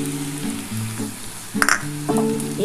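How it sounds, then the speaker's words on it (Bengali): Kundri (ivy gourd) slices sizzle steadily in a frying pan as poppy seeds are scattered over them, with a brief louder crackle midway and soft stirring scrapes and clinks near the end. "এবার বন্ধুরা আমি পোস্তটা কিন্তু ছড়িয়ে দিচ্ছি।"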